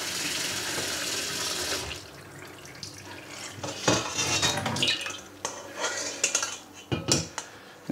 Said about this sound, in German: Jetzt werde ich so lange kaltes Wasser drüber geben, bis unten relativ klares Wasser rauskommt.